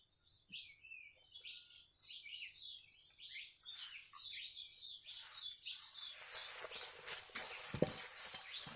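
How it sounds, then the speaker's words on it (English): Birds chirp and tweet in quick, varied phrases outdoors; later, rustling and crunching noises grow louder beneath the calls. "just listen to the beautiful bird noises"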